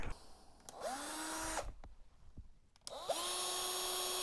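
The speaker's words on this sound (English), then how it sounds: "this time I'm going to use my hand drill" A hand drill whirs loudly in two sustained bursts, each spinning up with a rising pitch, as it bores into the base of a Hot Wheels Cadillac Seville die-cast car, with a quiet pause of faint clicks between runs.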